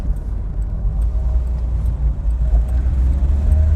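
A Mark 1 Citroen BX driving on a road near Pakiri Beach, with a steady low engine drone and road rumble from inside the cabin, continuous and fairly loud with no talk.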